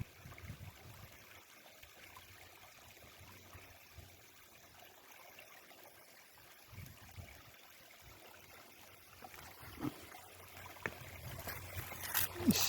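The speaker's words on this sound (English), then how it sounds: "Just a couple little mini waterfalls going on there." Clear water trickles steadily over small mini waterfalls in the Cheaha Wilderness of Talladega National Forest, soft and continuous, with louder splashy rustling near the end.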